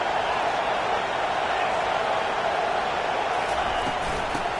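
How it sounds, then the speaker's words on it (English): Stadium crowd noise in a college football video game with Auburn Tigers vs Florida Gators, a constant loud roar of a large crowd with no breaks, a broad even wash throughout. "This crowd bringing the energy and noise early."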